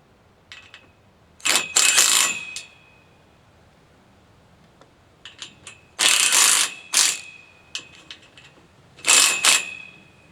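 Clamp on a hoop house bow being screwed tight, heard as three bursts of ratcheting mechanical clicks with quiet gaps between, close and fairly crisp.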